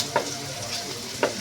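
Chicken curry masala with chilli powder, pepper and garam masala sautés in a pan, giving a soft sizzle with two quick spoon scrapes about a second apart.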